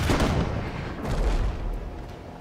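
Ship cannons fire in the naval game Abandon Ship, a heavy booming blast opening the moment and further deep rumbling shots rolling through, loud and close, with no talk.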